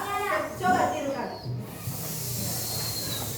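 A child imitates a snake's hiss with a drawn-out, breathy hissing voice that follows brief talk in a classroom. The hiss is steady and moderately loud.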